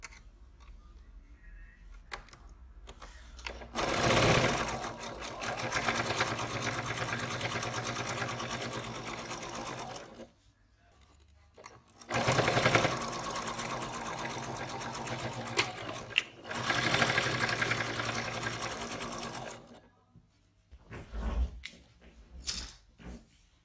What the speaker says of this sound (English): Now sew with 1/4 of an inch seam allowance.